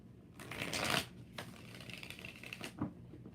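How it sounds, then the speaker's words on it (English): Tarot cards are shuffled in two or three quick riffling bursts, papery flutters close to the listener and moderately loud, with no talk. "Two more shuffles."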